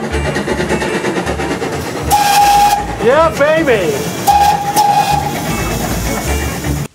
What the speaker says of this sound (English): I'm going to drive a train